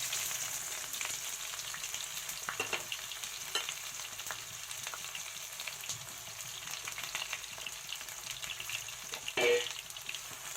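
Onions fry in a pan for chicken kosha, making a quiet, continuous sizzle with occasional stirring taps and one brief louder clatter near the end.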